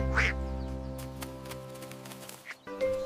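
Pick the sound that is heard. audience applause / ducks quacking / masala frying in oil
ducks quacking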